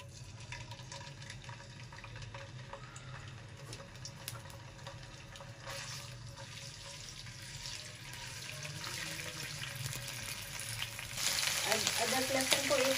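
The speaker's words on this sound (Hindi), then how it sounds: "अदरक लहसुन को 1 मिनट हो गए हमें फ्राई करते हुए।" Ginger garlic paste sizzles in hot oil in a kadai for chicken karahi, a steady crackling fry heard close by that grows louder and more vigorous toward the end, with no voices over it.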